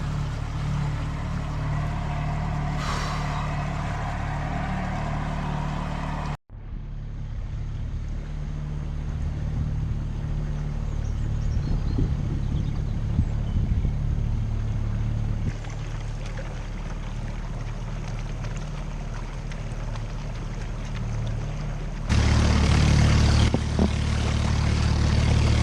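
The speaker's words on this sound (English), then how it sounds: "The engine stopped pumping water again, so limping back now." Canal boat engine on the Lancaster Canal chugging along while limping back after it stopped pumping water, a steady low droning rumble throughout, briefly cutting out and then rising louder toward the end, with no voices.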